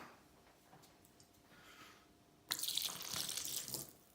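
Maker's 46 whiskey is poured as shots, a faint trickle at first, then a louder, close splashing pour over the last couple of seconds.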